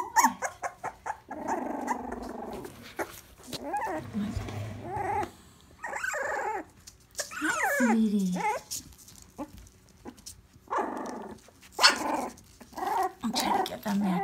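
Young puppies growl and whimper in a series of short, close bursts with soft squeals, while a person talks quietly in between.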